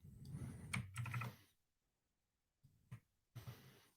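Typing on a computer keyboard in a short burst of quick, close keystrokes, a pause of near silence, then two more brief clusters of key taps.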